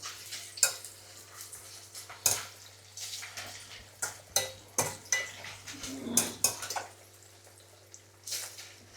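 Tempering of urad dal, chana dal, curry leaves and dry chillies frying in a small pan, heard as a quiet sizzle beneath repeated sharp metal clinks and scrapes of a spoon against the pan, no talking.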